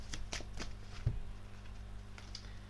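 Tarot cards being shuffled before a reading, a few close riffling bursts in quick succession followed by quieter handling.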